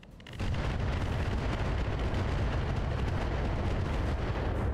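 Turret artillery firing in the Battletech Roguetech game, a dense rumbling barrage of booms that kicks in after a brief lull and continues loud and sustained to the end, with no talking.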